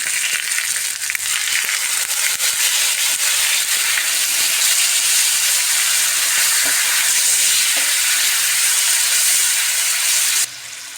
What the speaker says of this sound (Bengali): মশলাটা একটু কষাবো দিয়ে দিচ্ছি টক দইটা